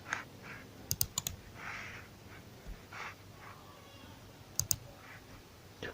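Number keys are tapped on a computer keyboard in short quick clusters of crisp clicks, close and fairly quiet, separated by pauses of near silence.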